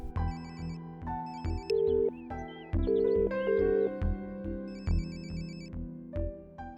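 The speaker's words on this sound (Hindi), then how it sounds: "रिंग जा रही है, आज तो मुझे बोल ही दो" A melodic ringtone chimes repeatedly in short electronic phrases, fairly clear and moderately loud, with no one speaking over it.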